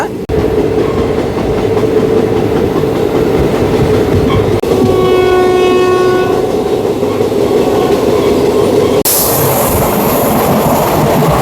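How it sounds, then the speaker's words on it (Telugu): A Kollam–Visakhapatnam express train rumbling past loud and close with constant wheel and carriage noise, its horn sounding a sustained multi-tone blast midway before the roar brightens near the end. "అది మన కొల్లం విశాఖపట్నం ట్రైను"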